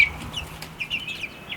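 Young pullets in a temporary coop give soft, faint clucks and chirps, a few brief calls scattered over a quiet background.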